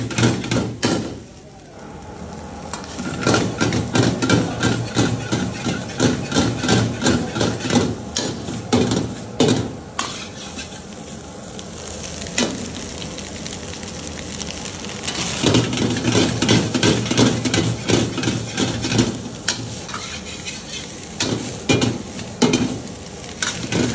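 Stir-frying black pepper mixed fried rice with chicken, mutton, egg and prawn in a pan, with continuous close scraping, clanking stirs and sizzling, and a voice speaking over it.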